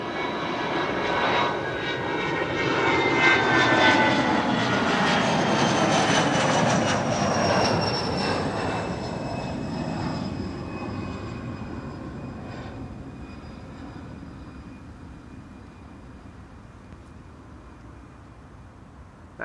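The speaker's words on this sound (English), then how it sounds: "That was a beautiful VistaJet Bizzer. Looked and sounded sweet." A VistaJet business jet taking off and climbing away at Amsterdam Schiphol Airport: a loud, broad turbine roar swells over the first seconds, holds, then slowly fades as the aircraft recedes. No speech over it.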